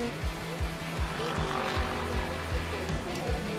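Nissan Z GT500 race cars in Super GT racing roar past one after another, engines rising and falling in repeated sweeping passes, loud and close with a constant motorsport din.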